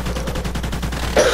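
Rapid turret gunfire in the video game Call of Duty Ghosts, a quick even string of close shots for just over a second, with a sharper burst of noise at the end.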